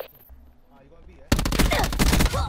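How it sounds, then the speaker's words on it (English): After a quiet start, a loud burst of rapid video game gunfire erupts about halfway through and continues as dense, close, overlapping shots to the end. "What are you shooting?"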